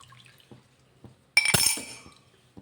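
Custard pudding mixture poured into a glass, a sudden bright liquid splash and trickle with faint clinks, following a quiet stretch of soft kitchen handling.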